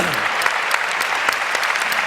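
Applause from a large audience at a televised State of the Black Union forum, a steady dense clatter of many hands clapping close by, with faint voices mixed underneath.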